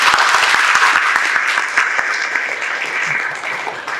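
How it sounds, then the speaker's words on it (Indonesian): Congregation applause at a Sunday church service held by a university Christian student fellowship: dense, sustained clapping from many hands, steady and loud for about four seconds before tapering slightly at the end. "Tepuk tangan untuk kita."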